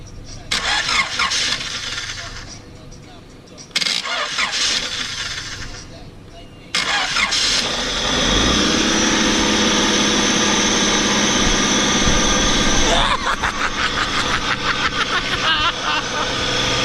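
A car engine cranks and catches after the key is turned, then runs steadily at a loud, close idle with a brief rev, with someone talking over it at the start.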